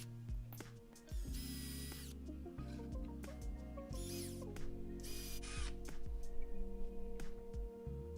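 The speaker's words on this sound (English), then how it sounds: "Then I drilled some pilot holes." Power drill boring pilot holes in wood for a homemade drying station for landing nets, several separate whirring bursts that start and stop, with handling clicks between them.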